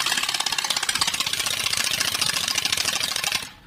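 Playing card flapping against the spokes of a spinning bicycle wheel, a rapid, steady motor-like buzz of clicks. It runs loud and continuous for over three seconds, then cuts off abruptly near the end.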